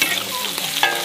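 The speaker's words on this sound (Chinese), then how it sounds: "炒腊肉" Cured pork stir-fried in a wok in a rural Xiangxi kitchen, with a loud, close crackling sizzle and the brisk scrape of a spatula tossing the meat, and no voices.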